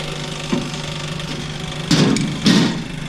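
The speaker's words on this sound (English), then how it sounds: "So we got the Sidewayz piston in the parts washer." A parts washer hums steadily while cleaning a Sidewayz piston, a low mechanical drone broken by a few short, louder bursts of spray and clatter.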